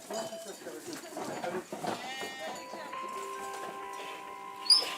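Ewes of several breeds, including Bizet and Noir du Velay, bleat on an Auvergne farm, a few wavering calls overlapping amid other farmyard noise and nearby voices.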